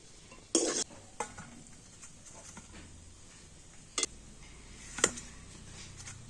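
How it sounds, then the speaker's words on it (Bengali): A spoon stirs and scrapes a thick dough mixture for tilkuli pitha in a pan, with quiet scraping over a low background and a few sharp knocks of the utensil against the pan's rim. "এবার আমি সবকিছু একটু নাড়াচাড়া করে তো সুন্দর একটা ডো তৈরি করে নেব।"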